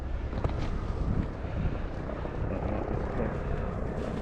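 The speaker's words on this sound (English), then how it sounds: "A helicopter. They must know we're here." Helicopter flying overhead at a runaway truck ramp in Madonna di Campiglio, a steady broad rotor roar with wind noise on the microphone, continuous and fairly loud.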